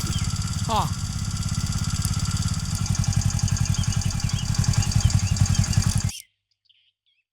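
Motorcycle engine running close by, a steady rapid putter that grows louder and more pulsing before cutting off abruptly near the end, with birds chirping in the background and a brief voice.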